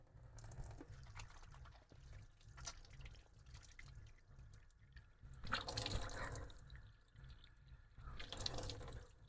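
Cold water runs steadily from a tap inside a van, a continuous splashing stream with faint drips that swells louder in bursts toward the end; no one speaks.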